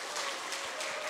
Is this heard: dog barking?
no